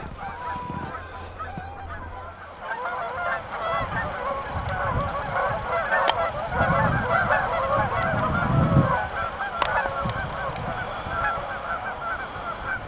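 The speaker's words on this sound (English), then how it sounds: "Lucky geese that are still alive." A flock of geese honks continuously by a river, many overlapping calls at moderate distance over steady outdoor ambience, with no talking.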